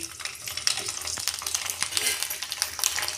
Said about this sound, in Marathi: आता आपण याच्यात पापड टाकूया बघूया तापले का तेल